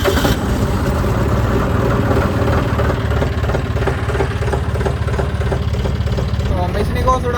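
A parked vehicle's engine running at a steady idle after starting, a constant mid-pitched rumble that stays even throughout.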